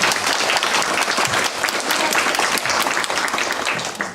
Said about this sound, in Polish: Brawa jeszcze raz dla wszystkich, którzy dzisiaj wystąpili.